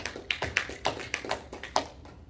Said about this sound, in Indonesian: Kita bisa tepuk tangan.